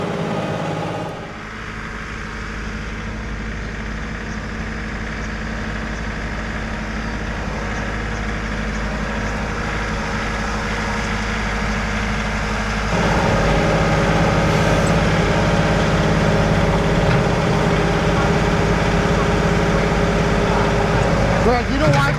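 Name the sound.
loader engine idled up running hydraulics to move bucket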